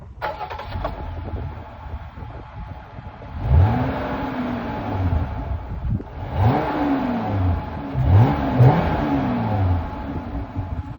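A 2020 Jeep Gladiator Rubicon's 3.6-liter V6 engine cranks and catches, then revs up in several rising and falling bursts, loud and close, with a steady idle rumble between revs.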